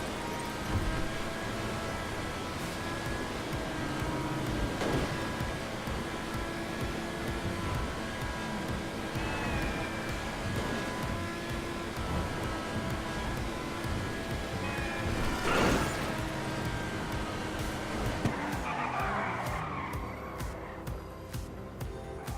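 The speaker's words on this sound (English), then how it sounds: "let's do a little high-end test speed to see how fast this car can actually get up to" Progen GP1 (McLaren F1) supercar in GTA 5 running flat out on a high-speed run, with a steady loud roar of engine and rushing wind that holds throughout and briefly swells near the end.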